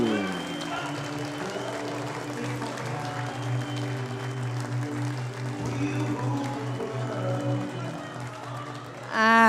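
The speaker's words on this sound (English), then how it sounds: "I'd like each and every one of you to put your hands together." Crowd at the Darts World Trophy 2017 applauds a Turkish player's TV debut, a steady wash of clapping and cheering for several seconds with a rising burst at the end.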